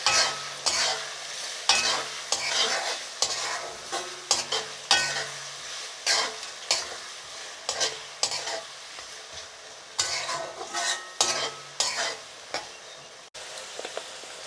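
Chicken frying with ginger paste, salt and turmeric, stirred repeatedly in a pan: steady sizzle broken by rhythmic scraping strokes of a spoon, close and moderately loud, with no talking.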